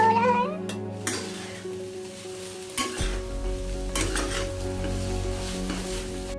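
Chow mein stir-fried in a kadhai, loud sizzling with repeated scraping and clanking of a spatula against the metal pan, close and continuous, with a brief high tonal sound near the start.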